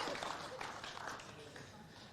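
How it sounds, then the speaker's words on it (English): Audience applause for medalists at the World Bowls Series Finals, a fairly faint, steady wash of clapping from a crowd lasting a couple of seconds with no clear voice over it. "Big round of applause once again for all of our Women's World Bowl Series finalist medalists."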